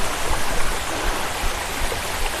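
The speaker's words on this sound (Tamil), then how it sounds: "இந்த அருவி சத்தம் தாங்க கீழே வரைக்கும் கேட்குது" A waterfall flows on a mountain above Tiruvannamalai with a loud, constant rushing roar of falling water, steady and unbroken throughout with no voices over it.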